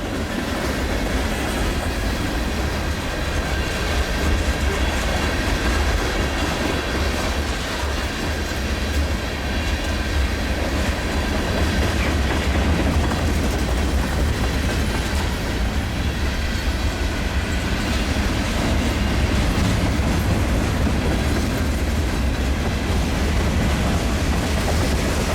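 CN L571 freight train with Century locomotives rolling past at Cedar Falls, Iowa, a steady loud rumble of wheels and railcars with clickety-clack rhythm sustained throughout, no voices.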